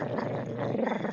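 A dog growls low and continuously up close for a second, a rough rumbling snarl with no talk over it.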